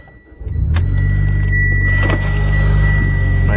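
A Mitsubishi Ralliart car engine cranks and catches near the start, then settles into a steady, loud, close idle with a low rumble that holds to the end.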